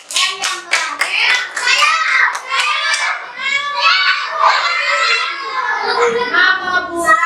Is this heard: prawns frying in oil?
no